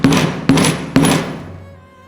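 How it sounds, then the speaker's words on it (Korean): A mallet strikes a multi-prong leather stitching punch to make holes, three sharp, loud, evenly spaced blows close up, each followed by a brief ringing decay, with no speech. "맞춰서 이제부터 또 구멍을 뚫겠습니다."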